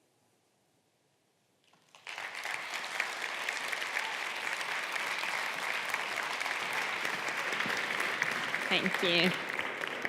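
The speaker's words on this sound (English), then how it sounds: "Another round of applause for Steffen, please." Audience applause bursts in after a brief spoken thanks and holds steady and dense to the end, with a few brighter claps and faint voices mixed in near the close, following a talk on purpose and creating miracles.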